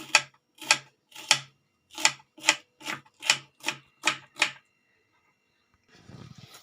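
A knife taps on a cutting board as vegetables are finely chopped for sweet corn masala, ten crisp evenly spaced strokes in a steady rhythm, close and clear, followed by silence and a brief soft rustle.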